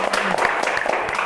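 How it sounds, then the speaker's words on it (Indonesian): Audience applause at an Indonesian interview show welcoming guest Agus Nurhasan, voice actor of Suneo, a short burst of scattered claps of moderate loudness with a little talk mixed in. "Tepuk tangan dong."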